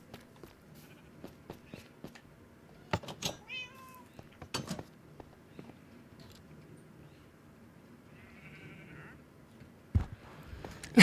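A cat gives a few short meows at moderate distance, with scattered knocks and small movement noises in a quiet indoor space between them.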